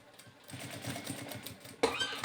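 A sewing machine stitches a seam over a zipper on a simple wallet, a fast, rapid rhythmic clatter at close range, ending with a short louder rustle.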